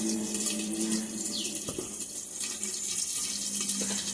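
Water is poured into a mustard and green chili paste for a stuffed flat-bean dish in a home kitchen, a soft, steady trickle with light splashing heard close up and without voices.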